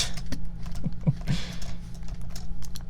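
A computer keyboard being typed on in the background, with irregular soft clicks and key taps scattered across a few seconds over a low steady hum.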